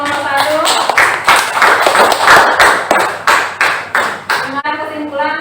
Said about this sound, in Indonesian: Aplaus ya untuk kelompok